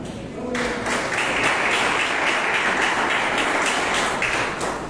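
Sustained applause from a crowd, dense and steady clapping that starts abruptly and continues at an even level throughout.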